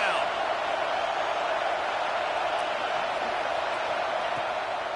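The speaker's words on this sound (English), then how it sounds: "Decibels rising as the crowd gets behind this defense on 3rd down." Football stadium crowd noise from a video game with an LSU team, a steady, dense roar filling the background without pause, building on a third-down defensive stand.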